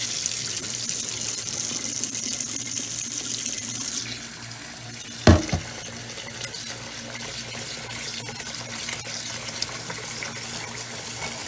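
Rice being rinsed under a running faucet, four cups of rice in a pot, with a steady close stream of water and a brief louder splash partway through; no talking.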